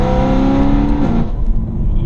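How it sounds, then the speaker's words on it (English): Exhaust note of a 2009 BMW M3, a loud, close, deep roar that holds strong and then fades away within about two seconds, with no voices over it. "with cars like this and an exhaust note like that"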